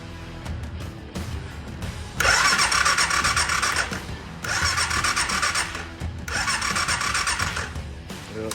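A 2008 Arctic Cat 500 4x4 ATV engine cranks with a fresh solenoid fitted, three loud bursts of cranking separated by short pauses, close by and with no talk over it.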